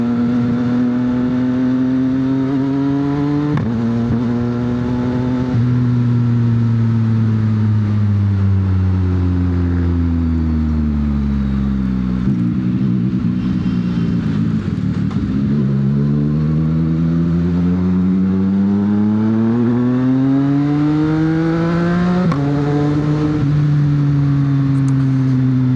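A CFMoto 675NK motorcycle engine drones steadily while riding, rising and falling in pitch as it accelerates through the gears and slows, loud and close with no voices.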